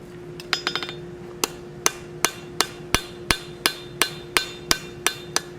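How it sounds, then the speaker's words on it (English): A blacksmith's hammer strikes hot metal at an even pace, about two per second, smoothing forged transitions with the flat face, after a quick flurry of lighter taps at the start. "we'll clean this up with the flat of our hammer and clean up these transition lines"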